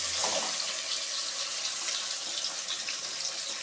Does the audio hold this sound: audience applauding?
no